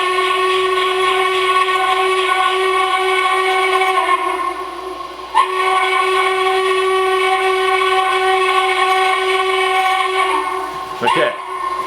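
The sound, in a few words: Bachmann 0-4-0 Porter model locomotive moving with sound card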